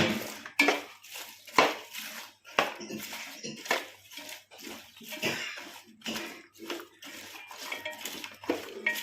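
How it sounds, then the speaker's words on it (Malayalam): Fried dry shark fish being stirred into a pickle mixture with vinegar in a pan, giving repeated wet scraping and clinks of a spoon against metal in an uneven rhythm, close by with no talking. "ഉണക്കമീൻ എല്ലാ ഭാഗത്തും നമ്മുടെ പിടിക്കാൻ വേണ്ടി ശരിക്കും ഇളക്കി കൊടുക്കുക"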